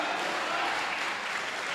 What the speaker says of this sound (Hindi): शेर अच्छा लगा तो जोरदार तालियां भी आनी चाहिए।